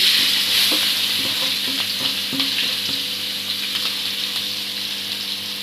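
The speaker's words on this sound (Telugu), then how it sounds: "దీంట్లో ఇప్పుడు కట్ చేసుకున్న ఉల్లిపాయ, పచ్చిమిరపకాయ వేసేస్తున్నా." Chopped onion and green chili fry in a pan with a loud, dense sizzle that slowly eases off, with a few light stirring knocks early on and no talking.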